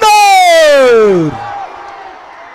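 A crowd cheers at a Hind Kesari bullock cart race in Pushegaon: a loud, falling whoop rings out first, then trails into steady, noisy crowd roar.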